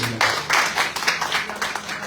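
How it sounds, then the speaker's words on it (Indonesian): A church congregation claps during a worship service, with several bursts of applause rising and falling in quick succession, loud and close. "Berikan tepuk tangan untuk Tuhan"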